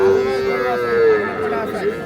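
Cattle at a Monday livestock market at Ambari lowing in a long, steady moo that holds for about two seconds, close and clear above faint background murmur.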